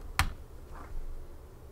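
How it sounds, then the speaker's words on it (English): A TV remote is set down hard on a wooden table, making a single sharp knock that is loud and close, followed by quiet room tone. "That was the sound of me putting the remote on this wooden table very loudly."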